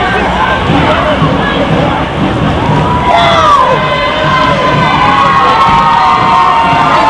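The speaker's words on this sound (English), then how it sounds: "They're cheering because they see the end of the parade" A crowd cheers and shouts at the Rutland City Halloween parade, with children's voices and babble rising as the parade's end comes into view, steady and fairly loud throughout.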